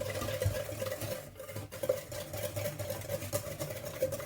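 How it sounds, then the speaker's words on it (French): Eggs, sugar, vanilla powder and melted butter being mixed for a plum fondant cake: a steady whirring buzz, likely an electric mixer, with a constant drone and scraping, clattering texture throughout, close and moderately loud. "je mélange donc les œufs, les sucres, la vanille en poudre et le beurre fondu"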